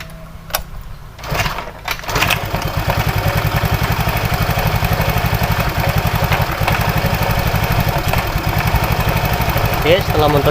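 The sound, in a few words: Honda Vario motorcycle engine idling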